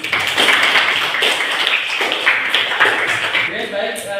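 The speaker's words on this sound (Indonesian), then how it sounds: "Tepuk tangan untuk kelompok satu." Students in a classroom clap for the first presentation group, a loud, close burst of many hands with speech audible underneath.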